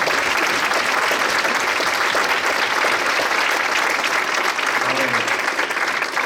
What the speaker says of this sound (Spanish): Le puede dar palmas muy fuertes al Señor.